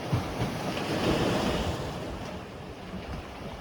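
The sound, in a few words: sea waves breaking on the coast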